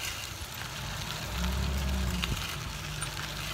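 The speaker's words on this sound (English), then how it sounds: "Sounds like a truck." A truck passing near a wooded roadside during a fat-tire bike ride, a low rumbling engine drone that swells in the middle and then recedes, heard over steady outdoor background noise.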